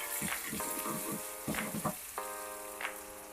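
Ginger garlic paste sizzles in half a spoon of hot oil for an Indian palak paneer, a steady close frying hiss with brief louder bursts as the paste is stirred and mixed.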